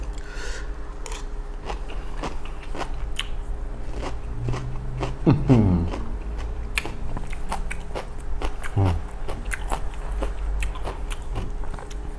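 Crunchy bites and chewing of spicy Thai Isan cucumber salad, with repeated close crisp crunches scattered over a steady low background hum.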